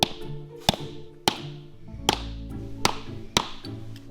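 A new rubber door seal being tapped into place on a truck, six sharp, evenly spaced taps ringing close and clear with a faint low rumble between them and no voices.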